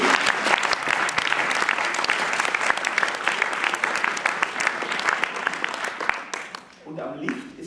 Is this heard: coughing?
no